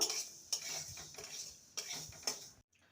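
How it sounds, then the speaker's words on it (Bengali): Dal for a Bengali shukto is dry-roasted in a pan, a quiet scraping of a spatula stirring the lentils, with a few sharp utensil taps against the pan before a sudden stop. "ডালটাকে ভেজে নেব"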